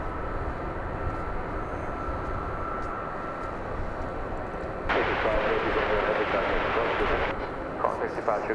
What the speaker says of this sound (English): It's a long takeoff run when you're loaded up with fuel to go to Istanbul.